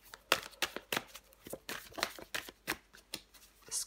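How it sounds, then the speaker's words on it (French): A tarot card is drawn and handled from the deck, giving a run of quick, close papery flicks and slides in an irregular rhythm, with no voice. "Allez, je prends encore une carte."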